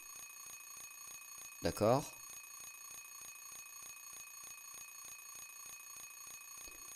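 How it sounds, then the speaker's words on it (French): Alarm clock ringing in the video game Silent Hill 3, a short loud burst of rapid trilling rings lasting about half a second over a steady electronic game hum, with a brief spoken word nearby. "Voulez-vous couper l'alarme?"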